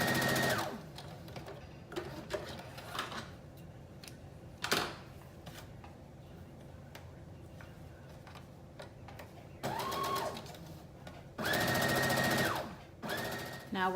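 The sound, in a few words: sewing machine stitching a dress seam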